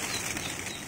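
Flock of white Banarsi Ghaghray pigeons flapping their wings in a brief, dense burst of fluttering, close and fairly soft, with no talk.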